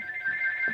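A telephone rings with a steady electronic warble in a workshop, moderately loud and alone with no voices.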